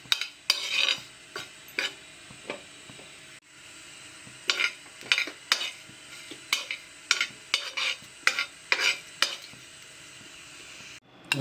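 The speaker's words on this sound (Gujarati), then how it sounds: "વરિયાળીને શેકી દઈશું. લવિંગ મરી અને એલાયચીને પણ શેકી દઈશું." Fennel seeds, cloves, black pepper and cardamom dry-roasting in a pan, with repeated sharp scraping and stirring strokes at an irregular rhythm over a faint light sizzle, close by and without any speech.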